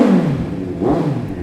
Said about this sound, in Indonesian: sekarang kita dengerin dulu nih suara dari Kawasaki Z900 ini